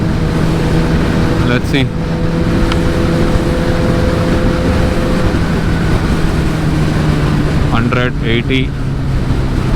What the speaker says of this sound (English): Let's see how much low it can go on the 6 gear